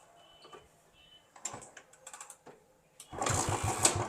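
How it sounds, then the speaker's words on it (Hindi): A Royal Enfield Bullet motorcycle is kick-started: a few scattered mechanical clunks and taps from the kick lever, then the engine catches and settles into a loud, steady rumbling idle. "अभी बाइक को हम किक से स्टार्ट करें क्योंकि बैटरी थोड़ा चार्ज है"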